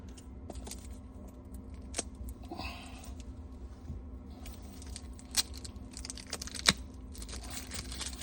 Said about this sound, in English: I'm gonna remove the plastic of this one, the wrapping.